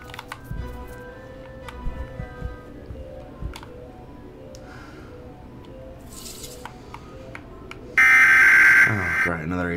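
Emergency Alert System alarm tone in a horror video game, a loud harsh buzzing blare that suddenly cuts in near the end after quieter game sounds and scattered talk.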